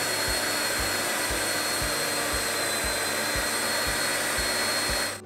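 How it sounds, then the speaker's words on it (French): A blender whirs as it blends a chocolate mixture of melted sugar and added liquid for iced chocolate truffles: a steady, loud motor drone with regular low pulses, cutting off at the very end. "Et je vais le mixer maintenant."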